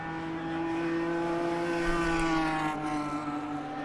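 Race cars circulating at Road Atlanta during a time attack session, including an Unlimited Class Nissan GTR and a Street Class C5 Corvette, a sustained engine drone with a slowly shifting pitch, heard at some distance and continuous throughout.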